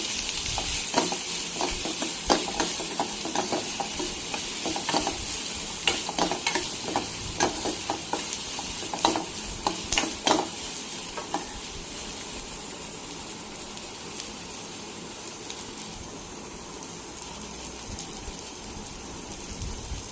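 Onions with added salt sauté in a pan, giving a steady, loud hiss of frying with frequent scraping stir strokes up close, busier in the first half and then settling into a continuous sizzle.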